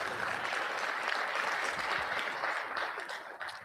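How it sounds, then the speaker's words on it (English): Sustained applause from an audience at a student government presidential debate, dense and steady clapping filling the room for a few seconds before tapering slightly at the end. "Round of applause."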